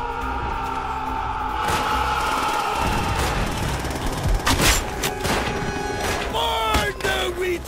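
Bursts of rapid gunfire in Call of Duty: World at War crackle over a busy, loud mix of background music and effects, with sharp cracks clustering toward the end.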